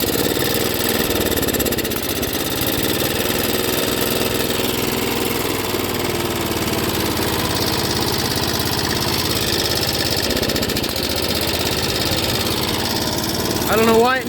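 A 1985 John Deere 212 lawn tractor engine, choked and running on old bad gas, drones loudly and steadily throughout, with a brief surge near the end and speech over it.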